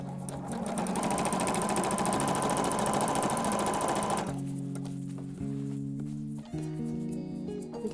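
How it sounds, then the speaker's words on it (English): A sewing machine stitches a laptop skin bag around its seam line, running steadily and loud for about four seconds, then slowing into shorter, uneven bursts of stitching with brief pauses. "So we're going to be sewing from this stitch line around, all the way around."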